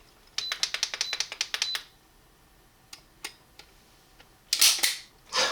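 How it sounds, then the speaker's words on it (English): Series of sharp mechanical clicks from a Beretta 92 pistol dry-fired in double action on a snap cap, a rapid burst of close ticks followed by a few isolated clicks and then louder, brighter snaps near the end, with no talking. "Let's take the magazine out of this. Again, another snap cap. Put it in here. Try out that double action first."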